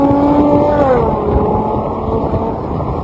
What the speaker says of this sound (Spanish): el sonido del escape es tremendo